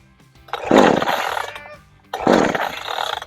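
A cold Pinkway 63cc chainsaw with a 20-inch bar is pull-started twice. Each yank gives a short, loud, rough roar of about a second and a half that dies away without the engine catching.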